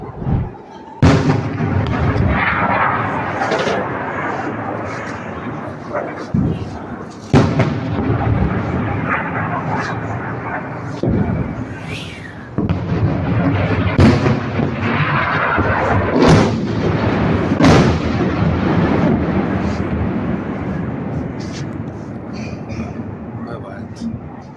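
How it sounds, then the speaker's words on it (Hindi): Missile strike explosions in Nahariya, Israel boom repeatedly, several loud sharp blasts and rumbles spread through the clip while someone talks excitedly over them. "אתם לא יודעים איזה פיצוצים פה בנהריה"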